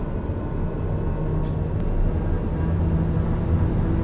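Steady, loud engine roar of an airplane at full takeoff power in Flight Simulator 2020, a continuous low droning rumble holding constant throughout with no talking.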